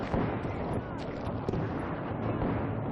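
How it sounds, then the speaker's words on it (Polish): Gunfire during a train robbery in the Western shooter game Call of Juarez: Gunslinger, heard as a dense, booming barrage of overlapping shots and blasts at a steady, fairly loud level. "Słychać strzały."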